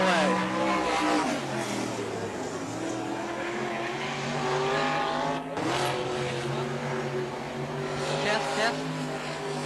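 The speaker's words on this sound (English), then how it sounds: "Spins the wheels all the way." A super modified race car with over 1,000 horsepower spins its wheels at a speedway, the engine roaring loud and steady throughout with harmonic revving, while an announcer talks over it.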